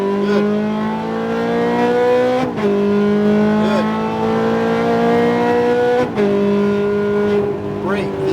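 A Ferrari F430 engine at Speed Vegas track howls loudly and steadily under acceleration, climbing in pitch through gears with two brief shift dips, heard from inside the car with a voice speaking over it.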